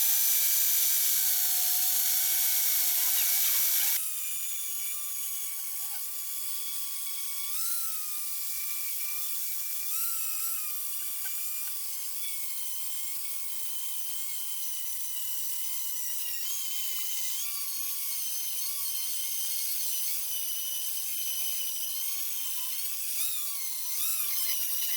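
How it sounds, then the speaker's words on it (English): A bench grinder fitted with a spongy polishing pad polishes the edges of a homemade sword made from scrap yard materials, giving a loud, steady high-pitched whine that dips slightly as the blade is pressed and shifted against it. "Polished spongy pad to polish up the edges while I've got it on the grinder"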